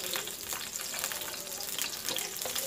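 Garlic fries in a pan while cooking ampalaya, a soft steady sizzle with faint crackles, close and alone without talk.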